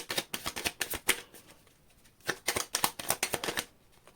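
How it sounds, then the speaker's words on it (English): Tarot cards riffle and slap together in quick bursts of crisp, papery flutter, close and fairly soft, with a brief pause midway before another run of shuffling. "Last shuffle."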